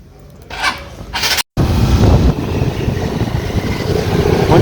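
A vehicle engine catches after a brief silent gap and keeps running with a rough, steady rumble, close and fairly loud, with no voices over it.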